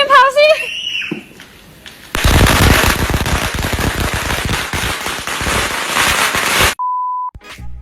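A rapid, loud string of firecrackers bursting for several seconds in a dense crackling barrage, followed by a short electronic beep.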